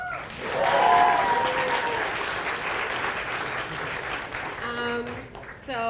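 Audience applause at a student demo day awards night, a dense wash of clapping that swells early and carries on steadily, with voices and cheering mixed in underneath.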